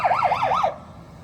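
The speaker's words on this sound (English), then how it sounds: "see how these horses do around the fire truck sirens" A fire truck siren wails in rapid rising-and-falling sweeps outdoors near horses, loud and close for about three cycles before cutting off abruptly, leaving only faint background hiss.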